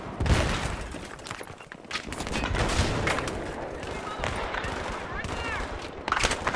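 Tank cannon and gunfire in Battlefield 3 multiplayer, a continuous, dense battle din of shots and blasts with louder bursts near the start and end, with talk over it at times.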